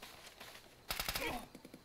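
A brief burst of rapid gunfire comes from a night operation in the video game ArmA 2. The crackling volley is fairly faint and distant, set against low background noise.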